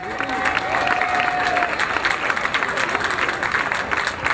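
Outdoor crowd at the Philly Light The Night Walk breaking into a big round of applause, continuous clapping at moderate volume with a thin tone gliding briefly at the start and some voices mixed in.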